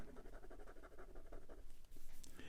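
A Moonman A1 capless pen with an extra fine steel nib scratches across paper in quick, toothy strokes, close and faint, with a dry rhythmic rasp.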